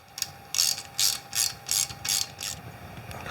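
A ratchet wrench tightens bolts while a bumper is fitted to a Yamaha Banshee two-stroke ATV. There are six or seven quick bursts of close clicking at an even rhythm, with no talk.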